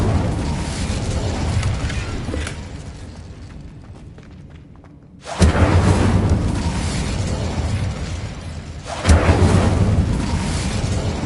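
Incendio fire spell cast in Hogwarts Legacy: loud bursts of whooshing, roaring flame, one sustained blast fading into quiet and then two more sharp eruptions, alone without talk.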